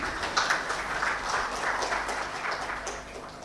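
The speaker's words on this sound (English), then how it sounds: "Can we have a big round of applause for them?" Audience applause at a foundation day ceremony, a steady wash of many hands clapping together, moderately loud and sustained for a few seconds.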